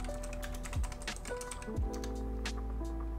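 Keys clatter in quick, uneven bursts on a computer keyboard while a live-streamer works, close and steady over a low background hum, with no talk.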